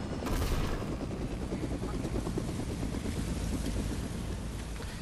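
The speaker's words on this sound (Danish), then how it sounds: "Du ødelægger helikopteren." A helicopter flies in the video game Fortnite, a dense steady rotor and engine roar filling the whole stretch, loud and constant with faint talk beneath.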